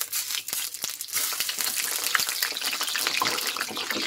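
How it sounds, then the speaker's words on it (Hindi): Dahi bhalla batter balls frying in hot oil as water is sprinkled over them, giving a dense, crackling sizzle with sharp pops and spits, close and steady throughout. "अब इसमें हम फ्राई करेंगे ये दही भल्ले"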